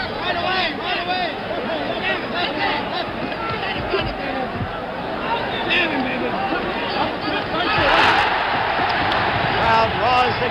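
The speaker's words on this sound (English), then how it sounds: "Crowd roars again" Crowd at a 1977 George Foreman versus Jimmy Young boxing match roars steadily throughout, a dense wash of cheering and babble that swells louder near the end.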